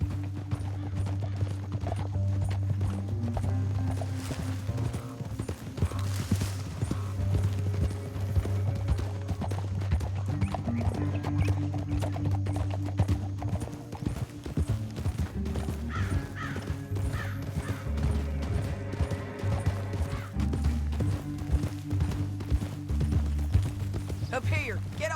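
Horse hooves clip-clop at a steady walking pace in Red Dead Redemption 2, sitting under a continuous low musical score and ambient game sound, with occasional voices and bird caws.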